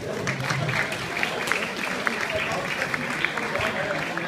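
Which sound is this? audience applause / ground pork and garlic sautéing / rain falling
audience applause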